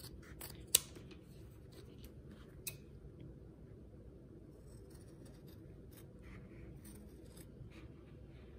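Scissors cut through leather for a slipper sole with a run of quiet, close snips and crunching clicks, a couple of sharper snaps standing out early, over a faint steady room hiss.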